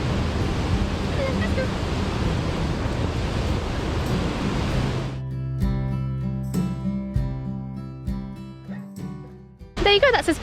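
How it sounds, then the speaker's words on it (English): Linn of Tummel waterfalls in Scotland, heard as a loud, continuous rushing roar of tumbling water for about five seconds before it gives way to other sounds. "So that was the Linn of Tummel waterfalls."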